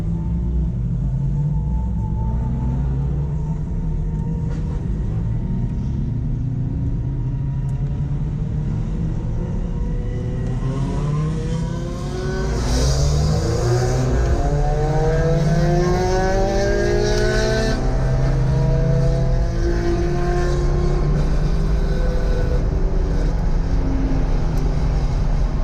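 A race car laps a circuit during a track session, its engine droning steadily and rumbling loudly up close, with rising revs and gear changes building toward the end as the car accelerates hard.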